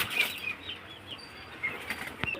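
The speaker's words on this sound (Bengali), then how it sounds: "পায়রা খুব ভয় করছে নতুন জায়গা তো" Pigeons at a bird market in Beldanga flap their wings in several soft, brief flurries, faint and fairly close in a quiet setting.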